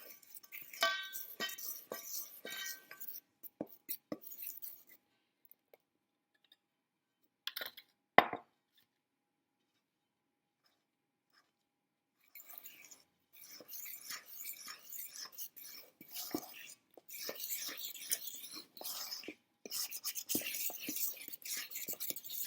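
A spoon stirs chocolate cupcake batter in a bowl, making soft, close scraping and sloshing sounds that stop briefly in the middle before resuming.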